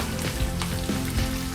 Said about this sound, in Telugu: ఉల్లిపాయలు గోల్డెన్ కలర్ వచ్చే వరకు ఫ్రై చేసుకోవాలి